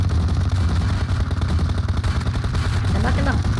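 Rapid gunfire rattles in PUBG Mobile over a rumbling vehicle engine, a loud, dense burst of shots with a voice briefly heard near the end.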